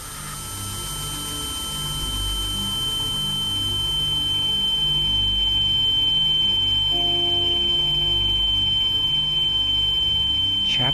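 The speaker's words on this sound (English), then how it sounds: "Can we stop the ringing now?" A continuous high-pitched electronic ringing tone from the psychological horror game The Town of Light holds steadily throughout, with a low droning ambient score beneath it and no talking.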